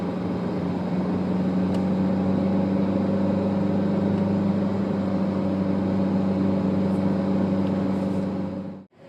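A car engine drones steadily while climbing a mountain road near Guimarães, a constant low hum at even loudness that cuts off abruptly at the end, with no voices.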